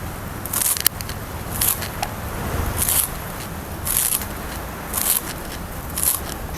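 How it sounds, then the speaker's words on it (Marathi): Fresh coriander leaves are chopped, producing crisp, crackly cutting bursts at a regular pace of roughly one per second over a soft background. "बघा आता आपण कोथिंबीर सुद्धा चिरून घेऊया"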